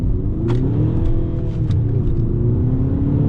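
Loud, steady rumble of a car engine idling and running up close, with a low droning hum and a few faint clicks over the top.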